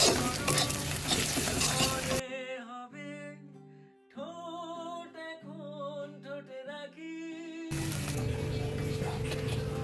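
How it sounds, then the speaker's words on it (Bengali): Eggs fry in oil in a pan while they are scrambled for potato chow mein, a broadband sizzle heard alone at the start and end, with a stretch of music in between. "ডিমটা ঝুড়ো করে নিচ্ছি।"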